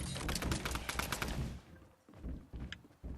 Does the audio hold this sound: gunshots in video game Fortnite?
yes